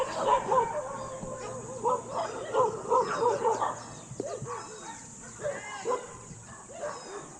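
A dog barks in repeated bursts of yips and bow-wows, fairly close, with quieter whimpers and a voice in the background in an outdoor setting.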